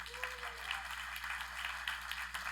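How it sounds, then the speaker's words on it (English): An audience at a tech conference applauds, a steady faint patter of clapping that continues throughout and sounds distant. "Let's get the round of applause about this."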